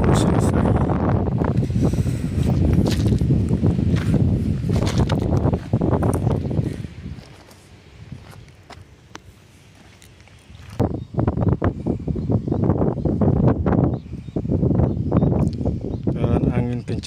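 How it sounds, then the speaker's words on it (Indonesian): Strong wind buffets the microphone on top of the high crest of the Lolak dam in loud, roaring gusts that drop away briefly in the middle before surging back. "Dan angin kencang sekali di atas ya, karena ini memang sudah tinggi sekali ini."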